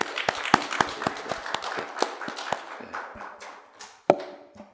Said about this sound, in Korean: 한번 박수.